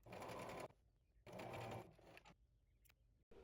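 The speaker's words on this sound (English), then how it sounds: "you're just going to sew all the way down" A sewing machine stitching trim onto a strapless top runs in two loud, steady bursts with a short pause between them, then gives a few brief whirs and clicks close by.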